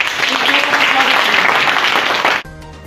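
Loud applause from a crowd at an AIMIM party gathering, dense clapping that runs steadily then cuts off abruptly near the end.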